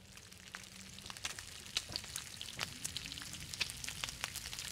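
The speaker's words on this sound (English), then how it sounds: "Listen to that sizzle." Venison frying over a fire in The Long Dark, a steady close crackling sizzle with scattered sharp pops and spits throughout.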